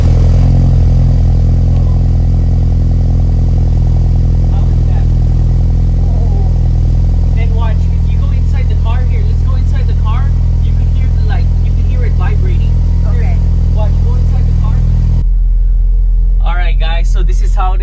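A Ford Bronco with an aftermarket MBRP exhaust and K&N air filter idles on a cold start, loud and rumbling with a deep, throaty exhaust drone, steady throughout, while a person talks over it near the end.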